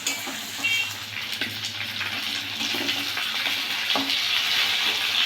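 Onion frying in a pan while a Bengali boal fish curry is being cooked gives a steady, even sizzle that holds at a moderate level throughout, with no talk over it.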